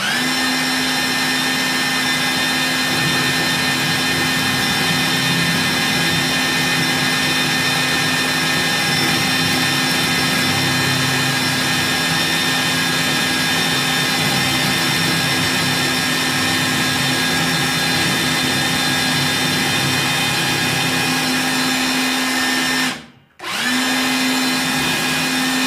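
A POWERFIX drill mounted on a drill stand bores into wood, giving a loud, steady motor whine that holds for about twenty-three seconds, cuts off abruptly, then starts up again.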